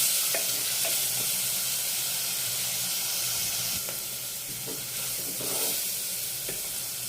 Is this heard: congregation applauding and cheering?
no